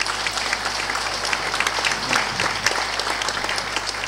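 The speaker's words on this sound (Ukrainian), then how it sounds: "Давайте подякуємо їм аплодисментами." Audience applause at a Ukrainian-Polish business forum, a steady, dense wash of many hands clapping for several seconds in a large hall, with a faint low hum beneath.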